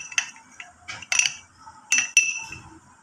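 A spoon clinks against a bowl while rice flour face pack with vitamin E is stirred, several sharp light taps in uneven bursts, close and fairly loud against a quiet background, no talking.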